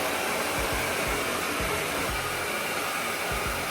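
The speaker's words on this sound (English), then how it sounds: "I love to use my GHD hair dryer" A GHD hair dryer blows in a steady, loud, unbroken roar close by, with no voices.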